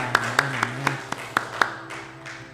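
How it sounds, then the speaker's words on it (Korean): A church congregation claps during a sermon on the Book of Acts, with about seven crisp, evenly spaced claps in unison over a low steady hum. The claps then stop, leaving quiet room tone. "우리 하나님께 영광의 박수 올려드리겠습니다"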